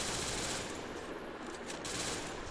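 Rapid MP40 submachine gun fire in the Free Fire battle royale game, a dense, continuous burst of shots filling the whole stretch with only a brief dip midway.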